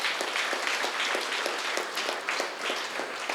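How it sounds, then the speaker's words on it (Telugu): Steady, vigorous applause from a crowd at a meditation-centre anniversary festival honouring a master, many hands clapping continuously with a faintly pulsing rhythm. "అటువంటి మహానుభావుడికి ఒకసారి గట్టి క్లాప్స్ కొడదాం ఫ్రెండ్స్"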